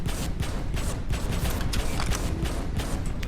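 Automated turrets firing in the sci-fi survival game Abiotic Factor, a dense, continuous clatter of rapid mechanical shots and rattling bursts sustained throughout at steady, loud level.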